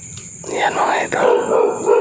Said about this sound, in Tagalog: May aso. Yan o. Yan o. Kumakahol.